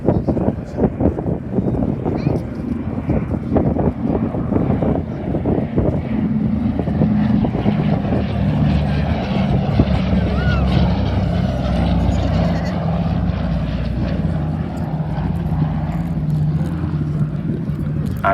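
Propeller aircraft in formation fly past at an airshow, a steady loud engine drone sustained throughout with wind buffeting on the microphone and a voice speaking over it.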